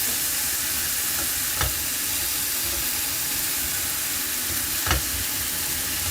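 Butter melting in a pan gives a continuous close sizzle and hiss, broken by two short sharp knocks, with no voices.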